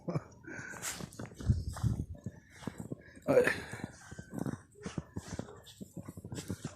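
Black dogs romping through snow outdoors, with scattered footfalls, panting and rough playful noises at close range, while someone talks over the play throughout.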